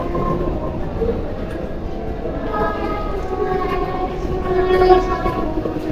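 A Paris Metro line 7 train rumbles in an underground station, a loud sustained roar with tonal squeals and hums rising slightly near the end, heard alone without speech.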